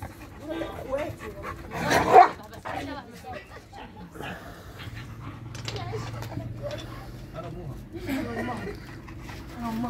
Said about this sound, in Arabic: كلاب واخده راحتها خالص